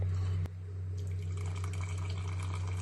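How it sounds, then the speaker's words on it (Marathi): Hot water is poured into a spicy Maharashtrian mutton curry, a steady close pouring and filling sound over a constant low kitchen hum. "शक्यतो गरम पाणी टाकायचं."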